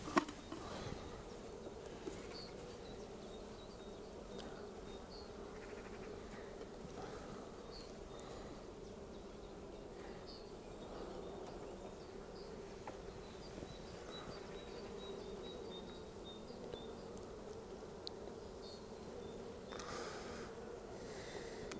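Honeybee colonies buzzing during a spring hive visit: a soft, continuous hum with individual bees zipping past now and then, faint and steady, with occasional handling noises.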